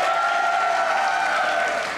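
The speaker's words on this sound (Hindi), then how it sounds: "यार जिनको लगता है मैंने अच्छा बनाया वो तालियां बजाएं।" A brief burst of studio audience applause on a comedy talk show, close, steady clapping with a light crowd murmur and a sustained musical tone running underneath.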